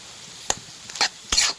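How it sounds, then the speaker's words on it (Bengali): Potato samosa filling being stirred in a pan, giving three short scraping, sizzling strokes at a modest level with quiet gaps between them and no talk. "মাঝে মাঝে এরকম একটু লাড়াচাড়া দিতে হবে যাতে নিচে লাগিয়ে না যায়।"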